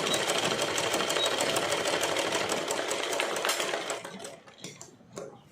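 A sewing machine stitches the folded side hem of a silk pattu pavada skirt, running in a steady, fast, close whir for about four seconds before stopping, followed by a few light clicks and taps.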